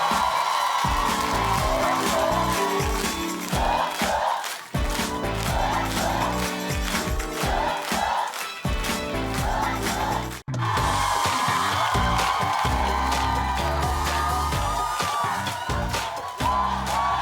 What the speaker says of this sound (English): Everybody keep the claps going